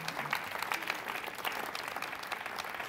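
Steady applause from a talk show studio audience fills the whole stretch, dense and even, with no voices rising above it.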